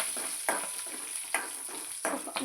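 Onions sizzle in a hot pan, a steady close crackle of frying punctuated by three or four scraping stirs of a spoon, with no voices.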